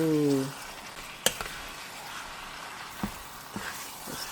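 Fettuccine pasta is tossed in a sizzling pan of beefy sauce, a soft steady sizzle broken by a few sharp clinks and knocks of utensils, following a brief voice at the start.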